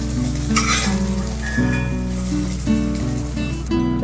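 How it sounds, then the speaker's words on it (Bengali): Tengra fish fry in hot oil in a pan, a loud, steady sizzle and crackle filling the whole stretch with occasional stirring, and no voices. "আমি লাল লাল করে সব ভাজা করছি"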